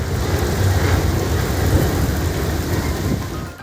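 Heavy rain pours down amid strong winds in Kutch, Gujarat, a dense, constant roar of water and gusts that holds loud and steady before cutting off at the end.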